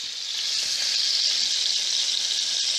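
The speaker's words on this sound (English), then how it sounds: "if you go ahead and cook them around 2 minutes, and then you can flip them over and cook them another 2 minutes." Marinated steak sizzles steadily in a hot pan, a dense, even hiss that holds at a constant close level throughout, with no voices.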